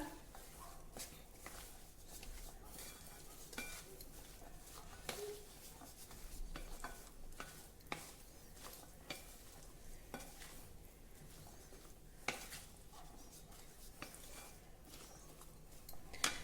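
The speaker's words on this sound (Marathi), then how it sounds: "आता अगदी हलक्या हलक्या हाताने हे मिक्स करा" Sprouted chickpea chaat with lemon juice being gently mixed in a bowl, a quiet continuous rustle of soft stirring with scattered light clicks of a spoon, no voices.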